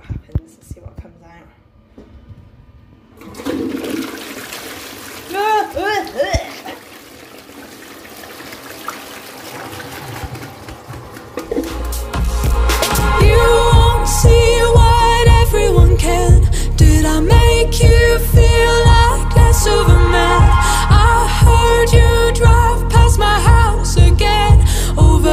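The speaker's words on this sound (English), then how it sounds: "I'm gonna flush it." A household toilet flushes, starting as quiet trickling and muffled activity, then surging midway into a loud, steady rush of water that continues to the end, close to the listener.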